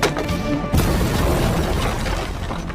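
An explosion tears through an upper floor of a building in an action movie scene, a loud booming blast with crashing debris, followed by a sustained rumbling roar.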